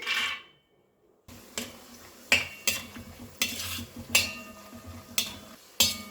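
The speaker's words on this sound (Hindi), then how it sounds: "तो बाकी के तेल में मैं अब डाल दूंगी काजू।" Cashews frying in leftover oil in a pan for a restaurant-style veg Diwani Handi, a close bubbling sizzle with repeated metal spoon clinks and scrapes against the pan as they are stirred.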